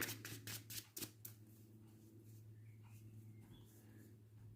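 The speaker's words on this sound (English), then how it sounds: "Then we shuffle, of course, our deck." A few quick riffling bursts at the start, like cards being shuffled, fade into quiet background hum with faint scattered sounds.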